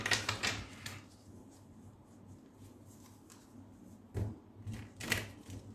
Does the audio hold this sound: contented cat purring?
no